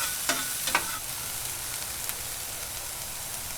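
Pork fried rice ingredients spread out on a Blackstone 22-inch griddle, sizzling with a steady broad hiss throughout, punctuated early by a couple of faint scraping taps.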